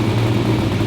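A 1957 car engine idles steadily on its own after tuning, a loud, close, even mechanical hum with no talk over it.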